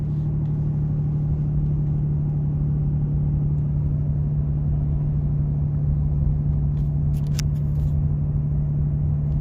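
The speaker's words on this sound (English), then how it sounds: "I'm gonna show you this exhaust brake. Click it on right now." Exhaust brake engaged on a RAM 3500 pickup towing a trailer, giving a steady, loud low drone that holds constant throughout, with a few faint high clicks near the end.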